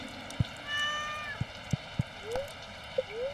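Small house cat meowing a few short, soft calls, heard faint against quiet background with scattered light taps.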